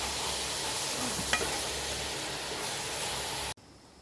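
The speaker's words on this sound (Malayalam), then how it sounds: "കുറച്ച് എണ്ണ ഒഴിച്ചിട്ട് ഉള്ളി വഴറ്റണം കേട്ടോ" Onions sautéing in oil for beef masala, a steady, even sizzle holding for about three and a half seconds with one faint clink partway, then cutting off abruptly to near silence.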